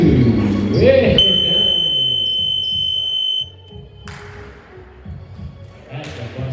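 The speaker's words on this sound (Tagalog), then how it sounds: "That's a buzzer." Long electronic horn blares from about 1 to 3.5 seconds at an indoor spring-league basketball game, steady and loud over crowd chatter, ball bounces and sneaker squeaks; voices talk throughout.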